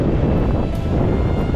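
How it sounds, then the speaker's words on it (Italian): Strong wind blowing at the seaside buffets the microphone in a loud, steady low rumble, with the wash of waves faintly mixed in. "Difficile anche farsi sentire perché c'è vento"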